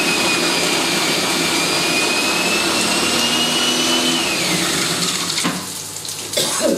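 Loud, steady motor whine of a food processor blending finely chopped green chilies for a prawn paste, close up, slowing briefly before a final pulse.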